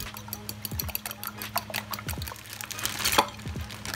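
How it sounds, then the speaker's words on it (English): A whisk beats two eggs in a bowl, quick rhythmic clicks and taps against the bowl with a wet slosh, close and clear. "Into another bowl, break 2 eggs and whisk well."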